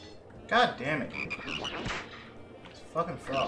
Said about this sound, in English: It's fucking frogs.